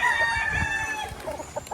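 Early bird chickens from a first batch, banded bullstags and pullets, cluck and call nearby in a farm pen, with overlapping rooster-like vocalizations and soft scattered pecking noises.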